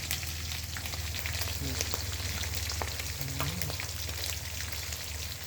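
Crabs frying in hot oil, a steady dense sizzle and crackle throughout, with faint bubbling and no talk.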